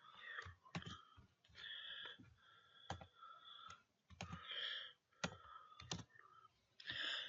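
Rapid clicking keystrokes on a computer keyboard while HTML list code is typed, coming in short irregular bursts with brief pauses, quiet and close, with no talk.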